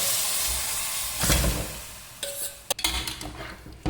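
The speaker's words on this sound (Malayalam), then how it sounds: "ഇനി വേവിച്ച് വെച്ച മട്ടൻ ഇതിലേക്ക് ഇടുന്നുണ്ട്." Cooked mutton tipped into a pan for mutton chukka, a soft clatter and rustle of meat landing followed by a few sharp metallic clinks of a utensil against the pan, with a light hiss underneath.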